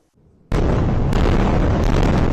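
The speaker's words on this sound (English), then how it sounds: "Unrelenting airstrikes." Airstrike explosions in the Gaza Strip: after a brief low rumble, a huge blast erupts into a sustained, overwhelming roar that stays loud to the end, with no voices.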